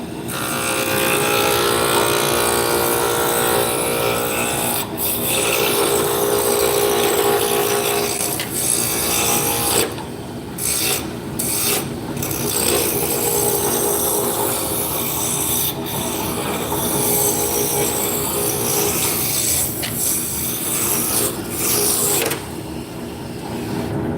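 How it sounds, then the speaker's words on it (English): A gouge on a wood lathe makes light passes on a spindle blank, a loud continuous scraping and rasping hiss over the motor's hum, with brief breaks as the tool lifts off. "we're going to take some light passes with the gouge"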